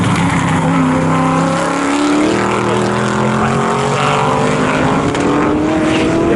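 Aston Martin GT race cars, including a Vulcan and a V8 Vantage GT2, howl through qualifying at Snetterton circuit, with loud, close engine notes climbing in pitch as they pass under constant trackside roar.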